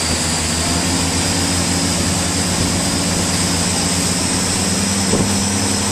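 A Sea-Doo 230 twin-engine boat accelerates on the water, its loud steady engine roar holding throughout with a continuous low drone and no voices.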